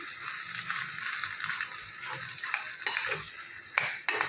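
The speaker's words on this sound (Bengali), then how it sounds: "আলু দিয়ে আমি এটা ভালো করে নাড়াচাড়া করে নিই।" Potatoes frying in a pan are stirred briskly, with a constant sizzle under repeated scraping and clattering strokes, a few sharper knocks near the end, and no talking.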